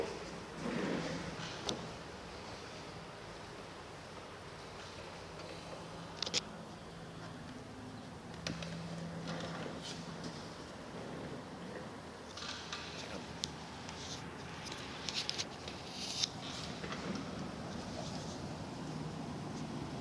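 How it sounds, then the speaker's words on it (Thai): Rain and storm outside in Chonburi, Thailand: a steady, broad wash of rainfall and gusting wind runs through the whole stretch, with a few sharper knocks and splashes rising above it and no talking. "พร้อมกับบรรยากาศฝนตกข้างนอกนะครับ"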